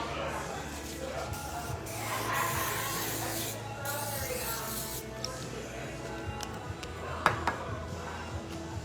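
Cooking spray is spritzed into a mini Dash pancake maker, giving a soft, continuous close-up hiss with a few small clicks and handling noises.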